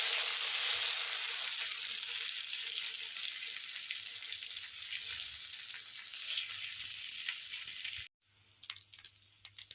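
Wheat dosa batter sizzles on a hot pan, a continuous hiss that holds steady for several seconds before cutting off abruptly and returning quieter.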